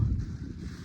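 Gusty wind buffeting outdoors beside the Mekong River at a cold, dry campsite while a fire is being lit, a steady low rumble of air across the microphone with no talking.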